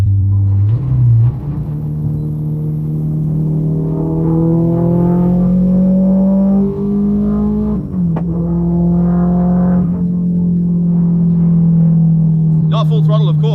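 A K24 turbocharged race Honda Civic with a manual gearbox, engine droning loud and close under part throttle as revs climb smoothly, with a brief shift dip, while someone talks over it.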